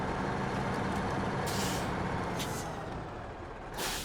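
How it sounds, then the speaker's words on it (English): A heavy truck in Snowrunner detaching its trailer in Taymyr, Russia, gives off a steady broad air-brake hiss with sharper bursts of released air near the middle and end. "Detach the trailer."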